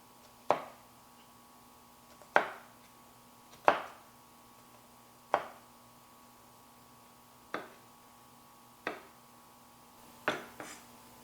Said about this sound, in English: let's get started with chopping up these tomatoes